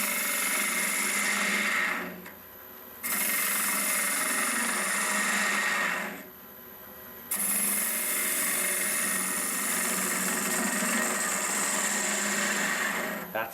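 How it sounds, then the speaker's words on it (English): Tool cutting the end grain of a natural-edge wooden vase spinning on a wood lathe, a loud continuous scraping hiss that stops twice for a few seconds and resumes, close up. "and now do a finishing cut."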